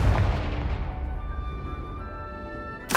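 A Confringo fire spell explodes in Hogwarts Legacy: a loud, close blast at the start that decays into a long rumbling tail, then a second sharp burst just at the end.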